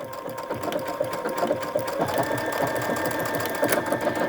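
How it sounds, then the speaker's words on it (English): A sewing machine stitching out the letter F in an embroidery pattern on fabric, a fast, steady mechanical whir with rapid needle clatter, close and continuous. "I'm just going to go ahead and start stitching, and it's stitching out the letter F"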